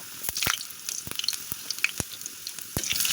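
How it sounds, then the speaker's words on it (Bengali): Halved medium potatoes frying in hot oil, a busy crackling sizzle full of sharp pops and spits at close range, with no voices. "আলুগুলো ভালো করে ভেজে, লাল করে ভেজে তুলব।"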